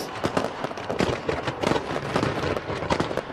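Fireworks over London set off from pyro boats on the river, a dense, continuous crackle and popping of bursts heard from a distance for several seconds.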